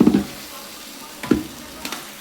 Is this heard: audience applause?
no